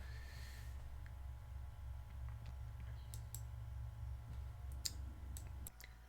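Computer mouse clicks heard as a few sharp, faint, isolated ticks scattered over a quiet room hum.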